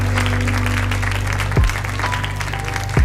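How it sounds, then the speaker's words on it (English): A loud, steady round of applause from a crowd, a continuous wash of many hands clapping for about three seconds over a low constant hum. "Give yourselves a round of applause."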